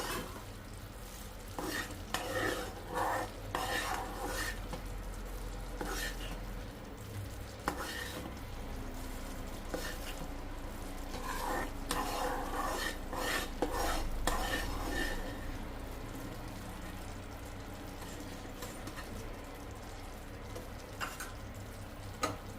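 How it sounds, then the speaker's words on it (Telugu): A khayam mixture is stirred in a pan, with repeated spoon scrapes and clinks against the metal over a low, faint sizzle, close by and irregular in rhythm. "బాగా కలుపుతూ ఉండాలి. ఉండలన్నీ పోయేంత వరకు కలపాలి."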